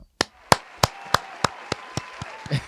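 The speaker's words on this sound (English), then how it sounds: "I'll give Rob a round of applause" A single person claps about nine times in a steady, slow beat to applaud Rob, each clap sharp and close, with the last ones growing softer.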